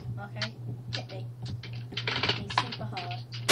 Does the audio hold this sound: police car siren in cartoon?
no